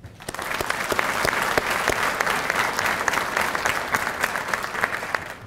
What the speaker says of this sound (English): congratulations and a round of applause for each of these individuals